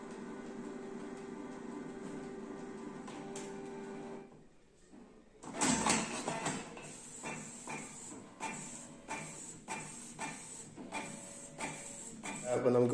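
A Canon Pixma G2012 inkjet printer running a page: after a brief lull, a quick run of clicking, whirring mechanical strokes and paper-feed rattles, close and moderately loud, with a voice faintly present in the background.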